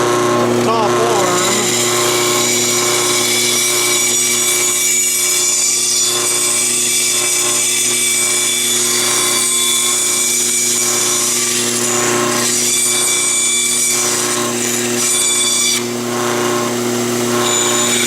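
Steady, close saw noise cutting wood pieces for a clothes drying rack, a continuous buzzing drone that stays loud throughout, with a voice briefly heard over it.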